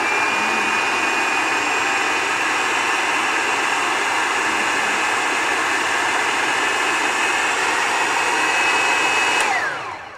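Electric hand mixer whirring steadily through black bean brownie batter, a loud continuous motor drone that holds for nearly ten seconds and then cuts off abruptly.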